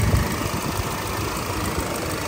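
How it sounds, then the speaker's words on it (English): International V8 in a 1972 International Scout idling steadily, a close, loud, even rumble with a slight knocking pulse and no voices. "Here's the engine."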